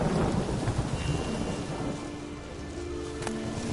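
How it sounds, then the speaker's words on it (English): Video game thunderstorm with steady heavy rain and deep rolling thunder, a dense continuous wash of noise that swells early and eases slightly, with no voices. "The storm, damn it."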